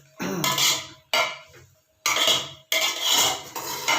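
A metal spoon clatters and scrapes against a cooking pot while mixed vegetables are stirred, coming in several short, close, bright bursts separated by brief pauses.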